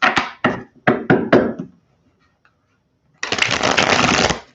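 A deck of tarot cards is riffled in several quick bursts, then a pause, followed by one longer continuous shuffle, close and crisp.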